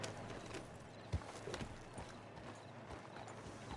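A horse's hooves clip-clop at a steady walk in the video game Red Dead Online, faint and even, with one louder thump partway through.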